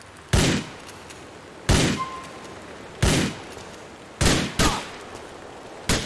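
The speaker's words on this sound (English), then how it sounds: "Jacob just shot me in the leg." Five sharp gunshots ring out in Grand Theft Auto IV, spaced irregularly about a second apart, the last two in quick succession, each loud and close with a short decaying tail over quiet background.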